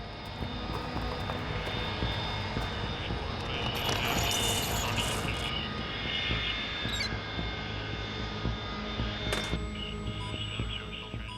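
Chinook transport and Black Hawk combat helicopters on an American military base, a dense steady engine and rotor roar filling the scene throughout, with a few faint clicks on top and no clear talking.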